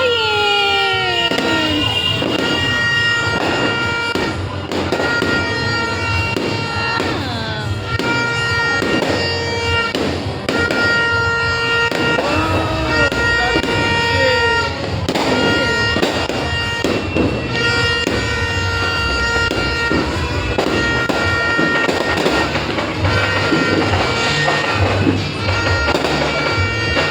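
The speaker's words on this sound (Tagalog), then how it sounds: "First time may fireworks?" New Year's Eve fireworks burst and whistle continuously over a residential neighbourhood. Dense, loud overlapping bangs and tonal whines fill the whole stretch, with faint crowd sounds beneath.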